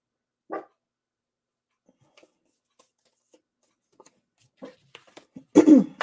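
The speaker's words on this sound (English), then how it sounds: "No barking, you guys." A dog barks indoors: one sharp bark, a long near-silence with small ticks, then a loud cluster of barks close by at the end.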